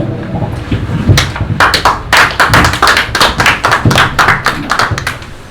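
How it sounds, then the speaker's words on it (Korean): A church congregation at a thanksgiving worship service claps loudly in a quick, even rhythm of sharp hand claps that starts shortly in and continues until the end. "큰 박수 주시기 바랍니다."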